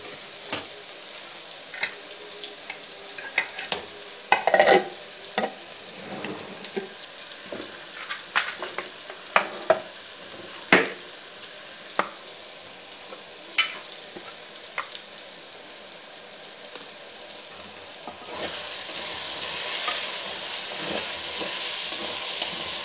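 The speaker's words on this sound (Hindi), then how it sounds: "थोड़ी देर हम इस तरह भूनें ताकि हमारे टमाटर जो हैं वो सॉफ्ट हो जाएं।" Tomatoes frying with spices in a pan as an egg dish is cooked: a continuous sizzle with scattered clicks and taps of stirring, moderately close, swelling into a louder hiss near the end, with no talking.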